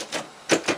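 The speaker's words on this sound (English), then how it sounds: "Why are you typing?" Keys being typed on a keyboard in a quiet room, heard as a few short, close clattering bursts with a pause between the first and the last two.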